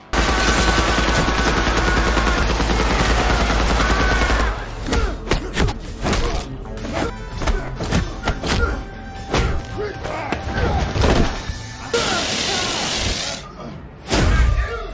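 Loud film gunfire: rapid bursts of shots and heavy thuds over a dense soundtrack, continuing throughout with brief lulls.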